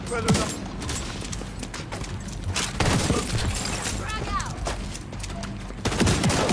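Repeated shotgun blasts in The Division 2 come in close, sharp bursts of gunfire and impacts, with reload clicks and a voice talking over them.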